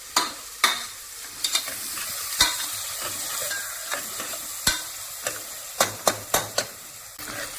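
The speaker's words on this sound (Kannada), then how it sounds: "ಈಗ ಈರುಳ್ಳಿ ಚೆನ್ನಾಗಿ ಫ್ರೈ ಆಗಿದೆ" Sliced onions frying in hot oil with steady sizzling under repeated sharp scrapes and clacks of a spoon stirring against the pan, close and with no talk.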